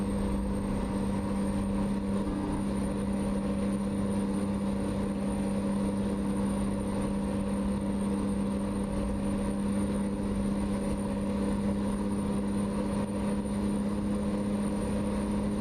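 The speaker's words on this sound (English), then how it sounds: "that Mac-R can really get some high RPMs" A Mack truck engine in American Truck Simulator holds a steady, loud, high-revving drone with a strong constant hum, unchanging throughout.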